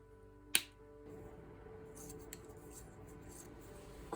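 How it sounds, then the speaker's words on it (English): Scissors snip once through a looped craft string, a single crisp close cut in a quiet room followed by faint rustling handling sounds. "So I will cut that off here."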